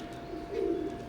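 A pair of adult Omani blood line teddy pigeons, both moulting, give a short, low coo close by against a quiet room hum.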